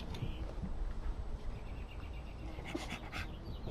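Puppies playing excitedly with a toy, breathing in quick, soft pants amid a steady noisy background, faint and close, with small yelps or whimpers here and there.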